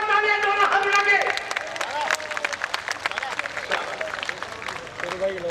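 Crowd applause and clapping at a political election rally in Kota, a dense, steady roar of hands with raised voices and chanting mixed over it throughout.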